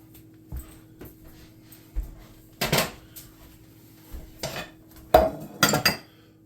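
A pot of potatoes set on a kitchen stove, heard as a series of irregular metallic clanks and clinks of cookware, some sharp and close, scattered over a quiet hum.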